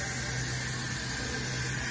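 Steam locomotive 1309, a large compound articulated coal hauler, gives off a continuous broad hiss of steam that stays loud and steady throughout, with no distinct breaks.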